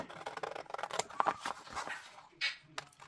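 Scissors snip through 160 GSM cardstock in a few close, crisp cuts with papery rustles between them, quiet and unhurried.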